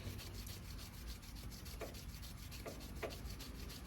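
A wooden pen spins on a lathe while sandpaper rubs along it in a steady, faint, close hiss, with a few light scraping accents and no talk.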